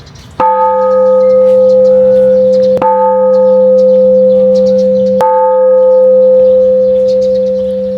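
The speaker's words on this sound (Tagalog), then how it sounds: "dito meron uling ganitong malaking kampana" A large temple bell in Pyin Oo Lwin, Myanmar, is struck three times at even intervals, each loud, ringing strike blending into the sustained hum of the one before.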